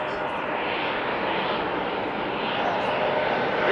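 A fixed-wing airliner arriving at Schiphol Airport from Leeds roars steadily and loudly, its broad engine noise holding constant without a break.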